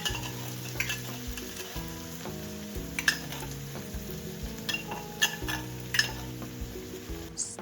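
Plain tomato paste sizzles and fries in a pan for Ukrainian borscht, a steady close crackle with occasional clinks and scrapes of a utensil stirring against the pan.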